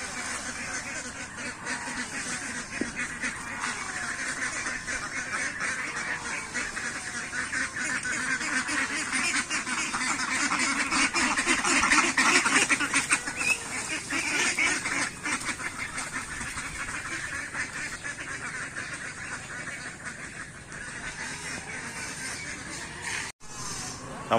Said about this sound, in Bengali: দেখেন কত সুন্দর হাঁস।